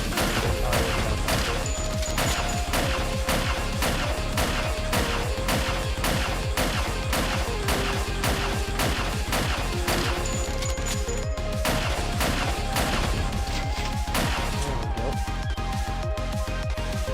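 Rapid, continuous gunfire in the video game Snezhinka: Sentinel Girls 2, dense evenly spaced shots hammering away loudly over a backing music track.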